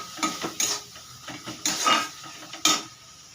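A metal spatula scrapes and clatters against a pan while turmeric, chilli, cumin and coriander powders are stir-fried for egg curry, in irregular sharp knocks and scrapes close by with no talking.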